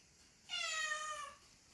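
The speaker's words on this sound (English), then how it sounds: "Oh, that was my cat." A house cat gives a single clear meow, about three-quarters of a second long, in a quiet indoor room with nothing else audible.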